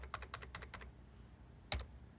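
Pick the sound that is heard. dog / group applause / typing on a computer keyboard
typing on a computer keyboard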